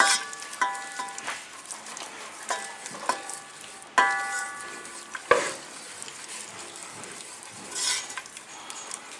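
Chicken soup base with thyme bubbling and sizzling in a pan, with a steady soft bubbling broken by sharp clinks and knocks of a utensil against the pan.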